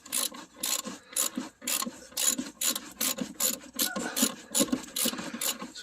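Socket wrench ratcheting on a Dodge Neon rear strut bolt, a close run of quick rhythmic clicking strokes repeated steadily, each burst a short rasping ratchet sweep.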